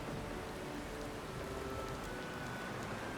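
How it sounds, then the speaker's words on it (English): Steady heavy rain in a video game pours down continuously, a dense hiss of drops hitting surfaces with no pauses, fairly soft overall. "Rain pours from the sky as if the Defiant had come to rest beneath a waterfall."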